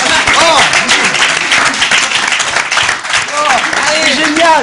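Studio audience at a French comedy show applauding a performer, loud clapping that runs under lively talk and exclamations from several people throughout.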